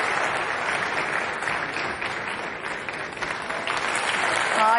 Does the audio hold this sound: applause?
yes